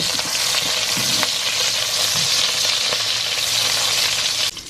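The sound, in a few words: ginger slices and shrimp heads frying in hot oil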